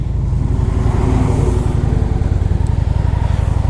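A Honda Shadow 750 motorcycle rolling along the road, its engine giving a steady, loud, close mid-pitched drone with a continuous low throb and some wind rush, no speech.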